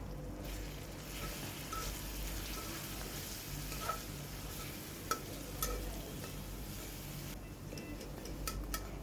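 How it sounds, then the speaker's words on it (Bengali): Tomatoes and garlic paste are stirred in a frying pan for a spiced egg dish, giving a soft, steady sizzle with faint scraping and a few light ticks, fairly quiet and without speech. "এখন ভালো মতো নেড়ে দিচ্ছি।"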